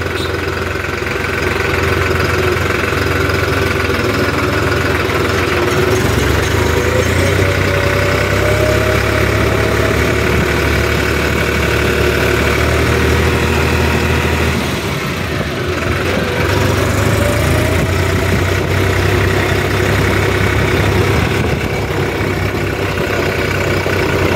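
A New Holland 3630 4WD Special Edition tractor engine drones loudly and steadily throughout a test drive, a continuous low rumble with a slight dip midway.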